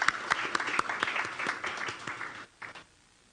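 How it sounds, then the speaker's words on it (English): A crowd at an education ministry news conference claps in a steady burst of applause that fades out after a few seconds, with a few last scattered claps. "Let us give our students, our parents, and teachers a round of applause."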